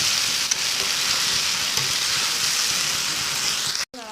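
Taro stolons fried with chili powder crackle and hiss in a pan, a steady close sizzle with scattered light stirring clicks, ending in a sharp brief knock.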